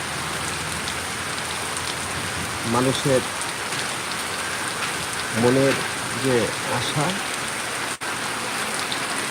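Steady rain falls throughout, a broad even hiss on a hot day. Someone talks over it in short bursts.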